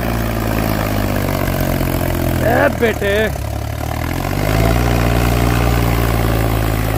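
A tractor engine, a 265 XP Plus model, runs with a steady low rumble close by, slightly changing load partway through, while a man briefly calls out over it.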